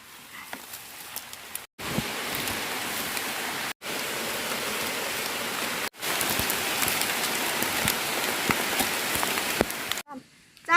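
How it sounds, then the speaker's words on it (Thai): Steady rain falls with a dense, close hiss and patter, broken by several abrupt short cuts to quiet before the downpour resumes. "ฝนนี่ก็ตกลงมาดีค่ะค่ะ"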